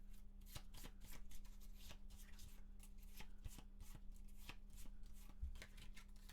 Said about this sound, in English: Let's make sure this is shuffled.